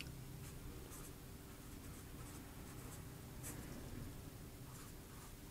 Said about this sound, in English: So now I'll just switch to my left hand and write out some pros and cons.